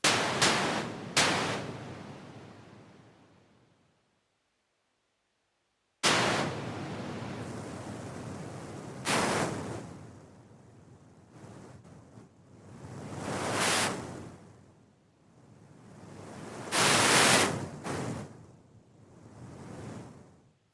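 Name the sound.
white noise drum plugin texture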